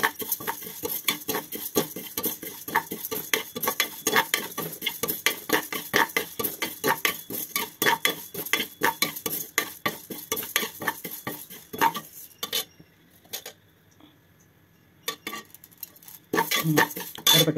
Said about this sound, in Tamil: குக்கர் அடுப்பில் வச்சு வாசம் வர மாதிரி வறுத்துக்கணும்.